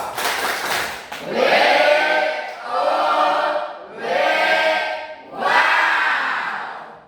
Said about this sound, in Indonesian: kita tepuk wow dulu untuk kelompok 1